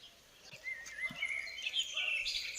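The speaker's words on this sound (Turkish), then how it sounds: "Onların ötüşlerini duyuyorsun sanki bir müzik gibi." Faint, high chirps and tweets of several birds calling over a quiet background, with the calls growing busier toward the end.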